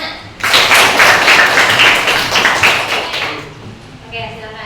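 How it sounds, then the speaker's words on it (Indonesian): Students in a classroom clap their hands together in a burst of brisk, fairly loud applause that fades after a few seconds, with a voice faintly under it. "Tepuk tangan, Nak."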